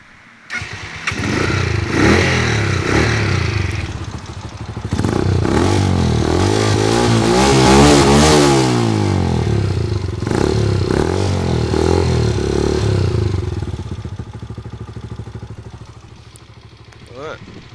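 A WK 125RR motorcycle started up close by, idling with a clattery single-cylinder beat and then revved in rising and falling blips before settling back to idle.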